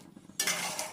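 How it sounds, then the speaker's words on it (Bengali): Chicken curry with chana dal and green chillies gets a quick stir in the pot: a short burst of scraping and soft sizzling breaks in after a near-silent moment. "একটু নেড়ে দেব।"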